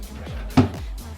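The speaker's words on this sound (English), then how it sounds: "So I'm just going to put this in my bedside table drawer down here." A drawer in a mirrored bedside table slides and shuts with one soft thud partway through, framed by faint scraping, close by in a quiet room.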